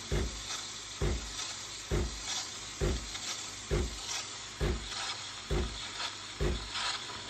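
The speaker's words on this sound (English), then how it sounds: "the actual thumping that the machine makes while it's producing the steam" A Barista Touch espresso machine gives rhythmic thumps about once a second over a continuous steamy hiss while producing steam, the pulses steady and evenly spaced.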